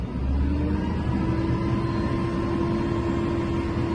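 JCB Fastrac Icon 4220 tractor engine at full throttle, heard from inside the cab: a steady, fairly muffled drone with a constant tonal whine, unchanging over the few seconds.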